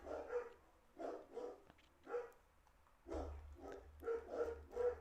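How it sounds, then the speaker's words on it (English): Dogs barking indoors at a moderate distance, a string of repeated sharp barks in uneven bursts over several seconds with a low background hum. "The dogs are going crazy."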